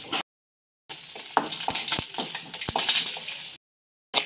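Unpeeled garlic clove dropped into hot oil with cumin in a home kitchen, sputtering and crackling steadily with a few sharp pops and a spoon scraping the pan, close and fairly loud.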